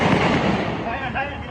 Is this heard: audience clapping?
no